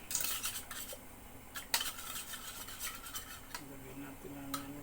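Puto batter stirred in a bowl with a utensil, with clinking scrapes and taps against the bowl's sides running steadily up close and a few sharper knocks. A voice is briefly heard partway through.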